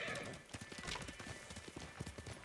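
A horse's hooves clip-clop in a steady, quick rhythm while it trots in the samurai video game Ghost of Tsushima. The footfalls are moderately loud and continue throughout, alone without talk.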